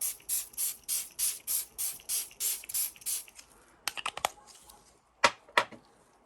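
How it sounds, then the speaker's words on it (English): A spray bottle hisses in a quick, steady series of about a dozen short mist bursts, followed by a few louder, scattered sprays. "Then I spray it with water"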